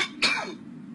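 A single sharp cough bursts out, close and fairly loud, then trails off into a short breathy tail in an otherwise quiet room.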